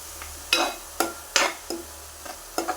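Tomato paste being stirred into onions frying in a pan for fish pirattu: five or six distinct scraping strokes of a spoon, spaced about half a second apart over a faint sizzle, close and clear with no talking.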